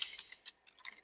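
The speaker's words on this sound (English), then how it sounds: "I'm going to type in Delta Wing" Light clicks of typing on a computer keyboard come in a quick, uneven run of keystrokes, close but soft, with no speech.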